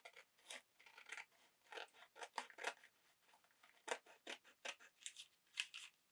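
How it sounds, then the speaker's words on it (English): Scissors snip along the edge of a brown paper bag being made into a large envelope, a run of close, crisp cuts in an uneven rhythm with short pauses, heard alone without talk. "I'm just going to trim this edge here."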